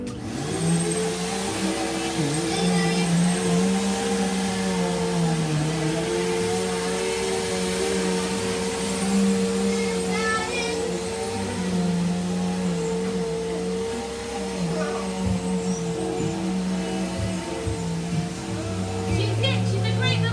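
A vacuum cleaner runs through a chore, its motor holding a steady, loud hum with slight shifts in pitch that continue throughout.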